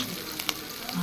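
Curry leaves frying in hot oil for a vegetarian mutton chukka-style dish give off a steady close sizzle throughout, with a couple of small sharp pops.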